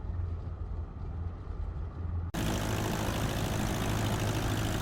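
Small airplane engine idling after a short-field landing in Flight Simulator 2020, a steady droning hum that turns abruptly into a louder, harsher roar halfway through, close and without talk.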